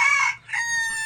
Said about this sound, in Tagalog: Ito, yung bantam namin, pinakamatanda dyan.